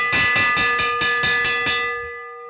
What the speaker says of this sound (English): Gonna hear the bell coming up.